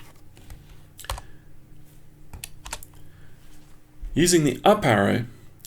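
Several light taps on a computer keyboard's up arrow key, spaced out over a quiet background, followed by a voice speaking near the end.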